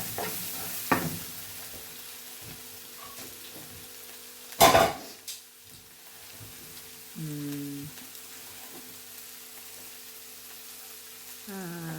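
Cooked pasta is stirred through a sizzling pan with a spatula, giving soft scraping and frying under a low hiss, a sharp clatter midway and a few light knocks.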